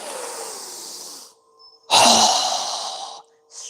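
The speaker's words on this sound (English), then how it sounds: "exhale through our mouth with a fast, strong breath as we quickly lower our arms and hands down" Two forceful mouth exhales during a yoga breathing exercise, each a loud breathy whoosh lasting over a second, close up with a brief pause between and a softer breath starting at the end.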